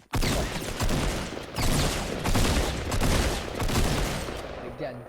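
Gunfire in the Fortnite battle royale video game, several dense bursts of rapid shots in quick succession, loud and close, with brief pauses between volleys.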